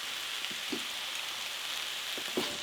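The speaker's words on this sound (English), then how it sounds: "we are letting this finish sauteing" Food finishing a sauté in a pan for a keto holiday brunch casserole, giving a steady low sizzle with a few soft stirring clicks and taps, quiet and continuous with no talking.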